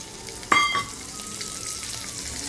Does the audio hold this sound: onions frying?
yes